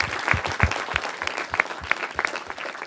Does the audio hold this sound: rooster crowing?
no